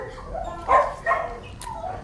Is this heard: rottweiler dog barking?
yes